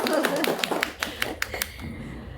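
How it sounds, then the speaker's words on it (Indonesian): An audience of men and women at an indoor counselling session gives a brief round of scattered hand claps, a handful of sharp separate slaps close by that thin out and stop, with a faint voice underneath. "Tepuk tangan dulu."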